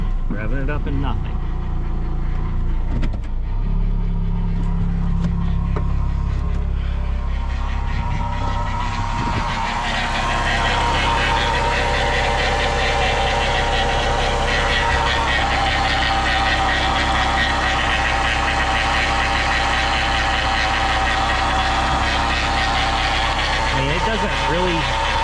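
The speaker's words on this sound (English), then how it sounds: "See, I'm like, revving it up and nothing." A car engine with a failing transmission idles and is revved without the car moving, a rough, rumbling drone that rises and thickens partway through, with someone talking over it.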